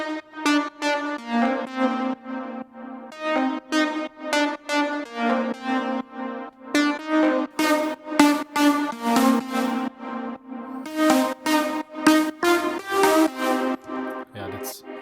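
A synth patch in Ableton Live plays alone as a sustained, harmonically rich chord sequence, then the full layered group joins with brighter, wider sustained chords and percussive hits, all loud with no talking.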